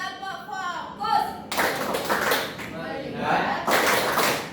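A classroom clapping game, where a group claps in rhythmic bursts of hand claps mixed with voices chanting and speaking together, lively and close.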